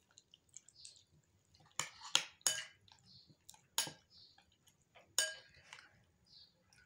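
Chicken hearts being mixed with egg and spices in a bowl, making soft wet squelches and scattered sharp clinks of a utensil against the bowl in an irregular rhythm, close and fairly quiet.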